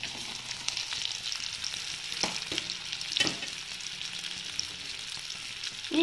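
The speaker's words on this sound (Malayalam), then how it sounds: "ഈ സബോള ഇതിൽ കിടന്ന് നന്നായിട്ട് കളർ മാറണം ഗോൾഡൻ കളറാണ് അതുവരെ നമുക്ക് ഇളക്കാം" Chopped onions with ginger, garlic and green chilli sizzle steadily in a pan for a soya curry, with a few sharp scrapes and knocks as they are stirred; no voices.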